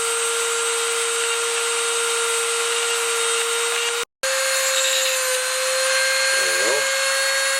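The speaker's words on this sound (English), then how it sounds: "I'll bring out my little Dremel here with a diamond bit" A small Dremel rotary tool fitted with a diamond bit trims down a PTFE hose fitting, giving a steady, loud high-pitched whine that cuts out briefly and resumes, with a pitch wobble near the end.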